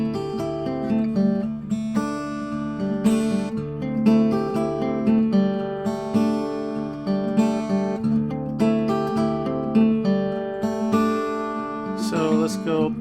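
Travis-picked acoustic guitar with an alternating thumb bass under bright melody notes, moderately loud and close, flowing steadily with strums and slides.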